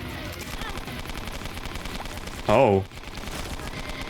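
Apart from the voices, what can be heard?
modded shooting sound in the video game Binding of Isaac: Repentance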